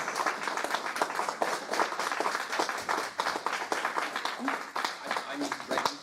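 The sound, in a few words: applause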